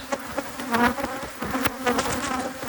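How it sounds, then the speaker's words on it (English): A swarm of honeybees buzzes close around a strong hive, a dense, steady drone with individual bees whining past, loud and continuous throughout. "I hate when bees are like this, honestly."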